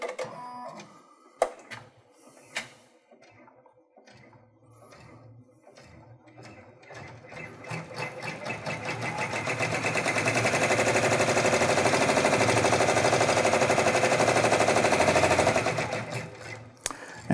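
An embroidery machine stitches an applique position line onto a zipper bag, starting with a few sparse clicks and building into a loud, steady, rapid mechanical chatter that runs for several seconds before stopping abruptly, close and with no talking.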